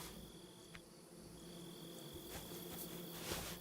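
Faint, steady insect buzzing from bees around beehives in a video game, a thin continuous drone with a few small clicks over a quiet background.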